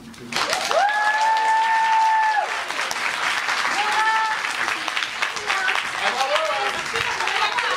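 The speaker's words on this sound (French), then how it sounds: "il faudrait peut-être un petit peu nous applaudir" Loud crowd applause fills the whole stretch, steady and dense, with a couple of voices calling out briefly over the clapping.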